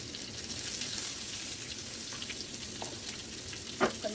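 Burgers sizzle steadily in a frying pan, a continuous close hiss with a few brief clinks and scrapes near the end and no talking.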